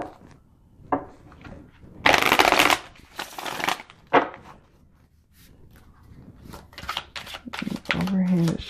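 An oracle card deck is shuffled by hand in several bursts of crisp riffling and papery flutter, close and fairly loud, with quieter handling between them.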